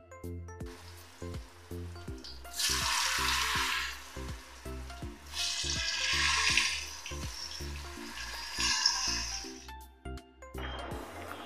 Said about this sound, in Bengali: তাই আমি এখানে তেল দিয়ে দিয়েছি, একটু লবণ দিয়ে দিলাম, পনিরটা ভেজে নেব।